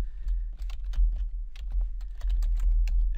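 A computer keyboard being typed on to enter a folder name: quick, uneven key taps heard up close and clearly, with no voices.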